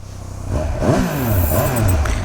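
Triumph Speed Triple 1200 RR motorcycle with keyless ignition, its big 1200 engine idling and blipping nearby in a steady loud rumble with rising and falling revs, no talking.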